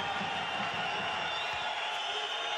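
Home crowd at a Dinamo Sassari basketball game against UCAM Murcia cheering, a steady dense arena roar heard at a distance, with a commentator talking faintly underneath.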